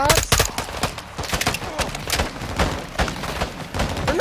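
Dense gunfire from the Call of Duty Modern Warfare video game, with rapid overlapping shots and bursts that crack continuously throughout, close and loud.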